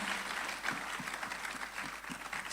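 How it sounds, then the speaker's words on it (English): An audience at the Global School of Money Summit 2026 applauds in a large hall, a faint, steady wash of clapping with a few sharper claps standing out. "A round of applause for yourselves."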